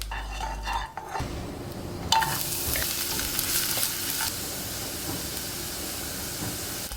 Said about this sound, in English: In a pan, I have added ghee, dry red chili, cinnamon stick, 2 cloves, jeera seeds and chopped onions.